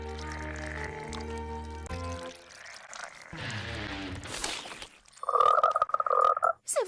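A cartoon frog croaks in a Monster High animated episode, with a run of loud, buzzy croaks near the end following softer musical and effects sounds.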